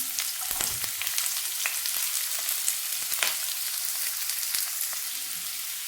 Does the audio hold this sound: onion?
yes